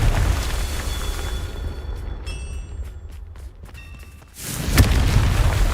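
A Confringo fire spell blast in Hogwarts Legacy, a deep booming burst that erupts loudly after a quieter stretch of rumbling combat ambience, with a bright crack at its onset.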